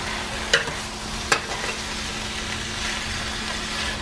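Steak and potatoes cooking together in a pan over low heat, a soft steady sizzle with a couple of sharp clinks of a utensil against the pan near the start.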